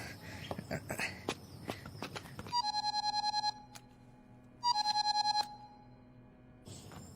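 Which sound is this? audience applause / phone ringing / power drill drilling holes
phone ringing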